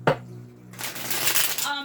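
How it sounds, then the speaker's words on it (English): A deck of tarot cards is shuffled in a quick riffle, a short crisp papery burst after a brief tap, close and fairly loud. "Let's give it one more shuffle."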